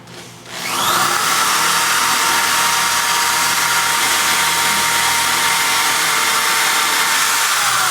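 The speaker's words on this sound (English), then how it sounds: "We're now going to go ahead and drill our first hole in the side." A power drill bores a hole into the side of an angle piece during installation, running as one loud, steady whine that starts after a short quiet moment and holds continuously to the end.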